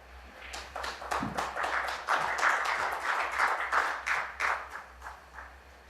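Snooker audience in Leicester clapping a well-struck shot at the World Grand Prix, a soft ripple of many hands swelling and fading across several seconds, fairly quiet and heard from a distance.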